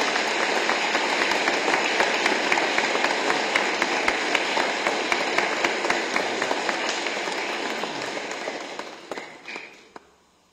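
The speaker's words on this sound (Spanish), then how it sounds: "Vamos también a darles un aplauso" A congregation at a funeral mass in a church claps in a dense, sustained patter that gradually thins and fades out over the last couple of seconds.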